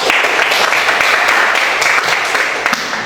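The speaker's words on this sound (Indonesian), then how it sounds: "Tepuk tangan buat kelas ya." A classroom full of students applauding, dense steady clapping close and loud throughout, tapering slightly at the end.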